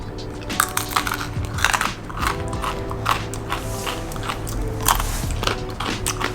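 Biting and chewing into crispy molasses pastry, giving loud close crunches in a steady series of crackly bites and chews, with no talk.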